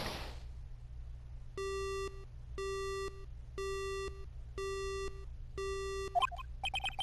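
A cell phone in the Phoenix Wright: Ace Attorney Trilogy game emitting a line-dead busy signal after a call cuts off, five evenly spaced steady beeps over low hum, followed by a quick warbling electronic chirp.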